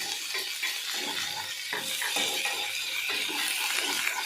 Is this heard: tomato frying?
yes